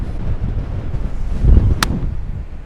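Strong storm wind on a golf course buffeting the microphone, a continuous low rumbling roar that swells midway, with a brief sharp click.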